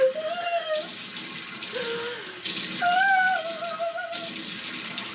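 Cold water runs from a bathroom tap during face washing, a close steady rushing stream with faint watery trickles, while someone talks over it.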